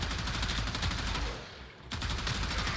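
The Gorgon machine gun in Warframe fires in rapid, loud sustained bursts, with a brief pause in the middle before the fire resumes.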